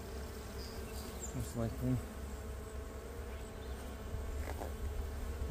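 Foraging honeybees swarm around an open hive box with a steady close buzz, a few individual bees passing loudly near, while a person speaks briefly.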